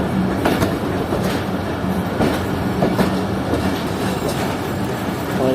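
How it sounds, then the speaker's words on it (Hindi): Pakistan Railways Jaffer Express train rolling slowly down a steep slope with brakes applied, steady rumbling wheel noise with faint clickety-clack and light squeals, continuous and fairly loud throughout. "इस वजह से ट्रेन काफ़ी स्लो ब्रेक्स लगा कर उतर रही है इस ढलान से"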